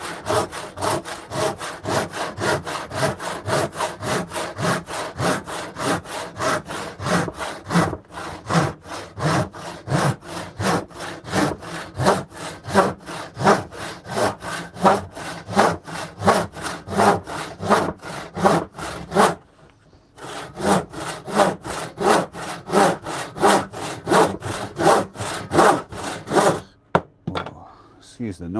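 A hand saw cuts straight through wood during work on a van, with fast, steady back-and-forth strokes close up that run for a long stretch, broken by two brief pauses.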